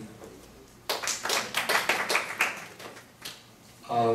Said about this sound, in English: Clapping is in order.